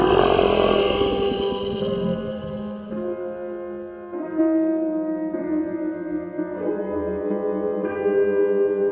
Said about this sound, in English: It was a terrible roar that shook the ground and made the giant trees tremble.